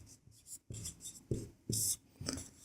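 A pen scratches across paper in a series of short, uneven strokes, close and fairly quiet, with brief pauses between marks and no speech.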